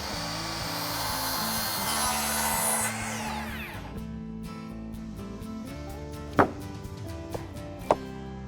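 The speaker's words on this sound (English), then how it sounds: "Here I chose to cut off about 16 inches from this end of the board where I could get into some flatter material." Power saw cutting about 16 inches off the end of a sawmill lumber board for pergola beams, a steady loud whine for roughly three seconds before winding down into low hum, with a few sharp knocks near the end.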